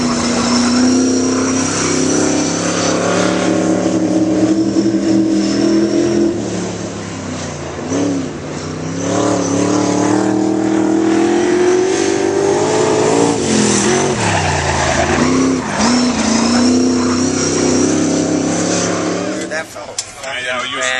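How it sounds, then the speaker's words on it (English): A sprint car races around a track during a 2010 track day at Mid Michigan Raceway, its engine loud and close, revving hard and rising and falling through corners with rapid rev-limiter stutters. Voices talk over it. "when you hit that groove and come in, just popping the rev limiter"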